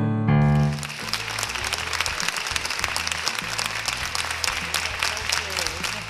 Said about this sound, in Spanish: Fortísimo aplauso que suena, Itequi, enormemente.